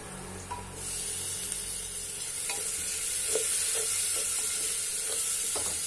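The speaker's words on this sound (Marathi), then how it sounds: "आता आपण फोडणी घालत आहे" Tempering spices crackle and sizzle in hot oil for dal bati, a steady bright hiss punctuated by small pops and a few spoon taps against the pan, with no voices.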